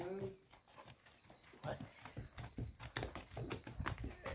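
A horse moves about on small farmland in Pernambuco, its hooves thudding and clopping irregularly nearby while people talk throughout.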